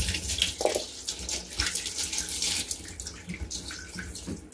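Tap water runs steadily into a pan of soaking beans for a rinse, a continuous splashing flow with rising and falling gurgles and no voices over it.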